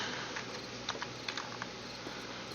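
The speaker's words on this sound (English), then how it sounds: "I hit that stupid button. Start typing things out" Rapid keyboard typing, soft and close, with light irregular clicks over a steady hum of background noise, no voices.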